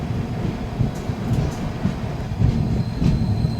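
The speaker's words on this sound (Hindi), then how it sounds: "दून एक्सप्रेस पहुंच गई है ज्वालापुर।" Doon Express passenger train rolling into Jwalapur station at dawn, a steady close rumble of wheels and carriages with rhythmic clicking over rail joints throughout, no voices.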